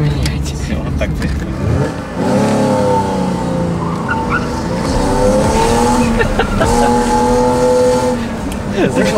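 A car engine in a video game revs loudly and steadily, its pitch rising and falling as the car drives, with tire noise and someone talking over it.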